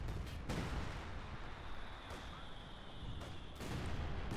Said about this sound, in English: A lot of mortars coming in.